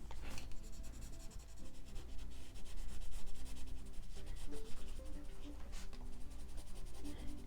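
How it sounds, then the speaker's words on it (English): Colored pencil shading on paper with the side of the lead, a steady close, scratchy rubbing in quick back-and-forth strokes that runs continuously throughout, fairly quiet. "I'm coloring more on the side of the pencil than anything."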